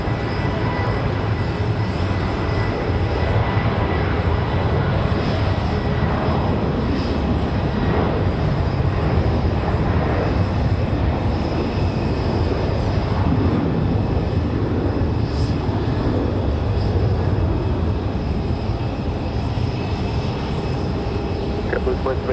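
A Delta jet departing Raleigh-Durham for Atlanta gives off a long, sustained roar of engine noise that stays fairly even throughout, with faint voices murmuring underneath.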